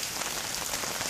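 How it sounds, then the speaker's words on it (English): Steady rain falling during Hurricane Harvey, a dense even hiss of drops striking surfaces nearby, continuous and fairly loud with no voices. "the rain died down a little bit"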